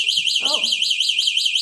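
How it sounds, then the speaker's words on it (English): Anti-theft alarm of an Ecolo ET4 LS electric scooter wails in a fast, rhythmic warbling siren, loud and close, while a voice gives a brief exclamation. "that's a demonstration of how your alarm sounds"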